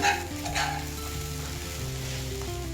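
Sabudana khichdi with peanut powder is stirred in a hot pan, giving a soft sizzle with a couple of scraping strokes at the start, while faint music plays underneath.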